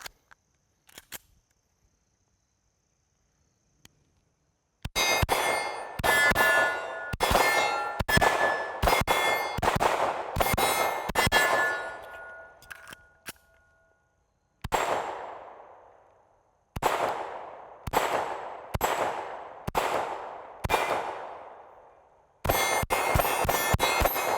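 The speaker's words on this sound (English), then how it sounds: "Let's put some rounds down range and see how this thing shoots a little bit more." A SAR USA K12 Sport pistol fired at a shooting range, heard as fast strings of loud, sharp shots. Each shot leaves a bright metallic ring, and the strings are broken by short pauses after a quiet start.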